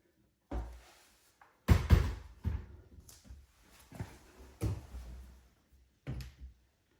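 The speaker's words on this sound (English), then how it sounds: "soft close cabinet doors" Soft-close kitchen cabinet doors shutting after an upgrade, a series of muted thuds and soft clunks at irregular intervals, close by with quiet gaps between them.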